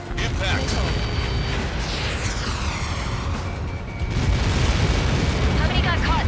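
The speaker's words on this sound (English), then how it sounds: "How many got caught in that explosion?" A massive explosion erupts on impact in the air-combat game Ace Combat 7, a dense, roaring rumble that fills the whole stretch, with sweeping whooshes overhead and a swell in loudness toward the end.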